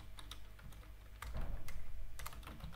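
Typing on a computer keyboard while coding a React app: a few sparse, quiet, close key clicks in small bursts, spaced irregularly over a low steady room hum, without any voice.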